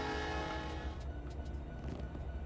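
A diesel locomotive resembling an SD40 rumbles in the Trainz railway simulator game, a low droning engine with tonal harmonics and faint clicks, steady and moderately quiet with no talk.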